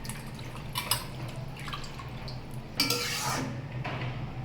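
A lid is set over a kadai (wok) holding kochu loti steamed with coconut and mustard paste and extra water. Two light metallic clanks sound close by, against a low kitchen hum.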